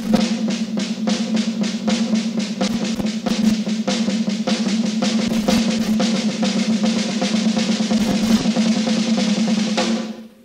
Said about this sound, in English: just to do a triplet, but do two notes on the left hand and one on the right